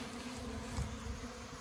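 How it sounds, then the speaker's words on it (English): Honey bees swarm densely around a long hive, producing a continuous, fairly faint buzzing drone close by with no other sounds. "The long hive is chock full of bees right at the moment."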